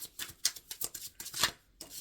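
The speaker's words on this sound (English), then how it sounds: "Shuffling for the collective, Spirit." Tarot cards being shuffled by hand, a quick series of soft papery riffles and flicks in an uneven rhythm, close and fairly quiet, with no talking.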